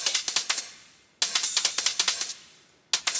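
Layered dubstep percussion loop built in Logic Pro: crisp hi-hat, shaker and ride hits in quick polyrhythmic patterns, bright and close, with a clicky shaker-hat texture and short gaps where the loop restarts.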